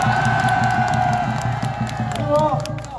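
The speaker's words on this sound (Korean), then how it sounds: "우리 조원진 대표님을 위해서 여러분 박수 부탁합니다" A crowd at an outdoor Taegukgi political rally in Seoul cheers and whoops with scattered clapping, under a loud, sustained amplified voice or tone that carries over the noise throughout.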